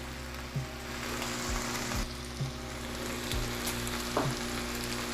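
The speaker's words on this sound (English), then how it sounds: "It's sizzling." Meat sizzles in a Paderno cast iron pan, cooking without oil in its own fat. The frying hiss is steady and fairly quiet, with a few soft clinks and taps from handling.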